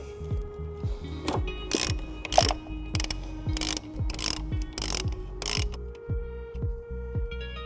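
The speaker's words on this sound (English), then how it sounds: "we're gonna go ahead and take a 15mm socket and we're going to take off our nut on the battery terminal" A 15mm socket ratchet clicking as it loosens the nut on a car battery terminal of a 2012 Dodge Journey, with a steady series of close mechanical clicks and sweeping pawl ticks, fairly quiet.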